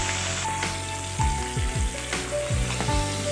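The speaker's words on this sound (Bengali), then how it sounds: "আস্তে আস্তে আমি বাটা মাছগুলোকে ভেজে নেব।" Bata fish frying in hot oil in a pan, a steady close sizzle with crackling bursts and a few scraping stirs, no voices.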